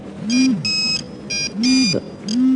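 A phone rings indoors in bursts of bright electronic tones, each burst repeating after a short gap over a low warbling sound, fairly loud and close.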